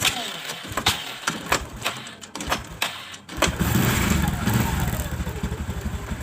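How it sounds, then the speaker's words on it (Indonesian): A Kawasaki ZX motorcycle engine being started in a workshop: rapid clicking and cranking bursts for about three seconds, then the engine catches and settles into a steady, close idle. "di sini sambil mesin kita hidupkan"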